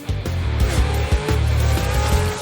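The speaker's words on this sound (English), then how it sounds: "make this type of pro 4x4 truck racing a full contact sport" Pro 4x4 racing trucks roar past at speed on the Crandon International Raceway track, loud engines droning with a rhythmic pulsing note and tire noise, close and continuous without talk.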